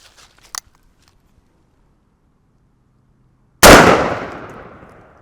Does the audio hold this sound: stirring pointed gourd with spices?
no